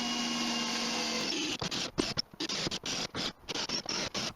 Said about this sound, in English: Then I could drill out those air holes in the bottom of the pit